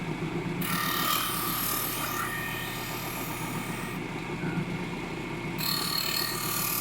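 Gaff blades for cockfighting being sharpened, a continuous close rasping and grinding scrape that runs steadily through the clip with short breaks in its brighter upper texture.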